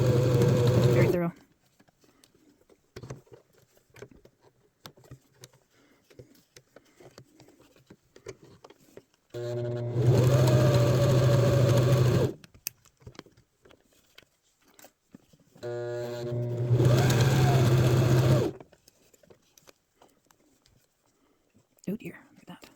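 A sewing machine stitches a skirt hem in three loud, close runs of a few seconds each, with quiet gaps between them filled by handling noises and soft talking.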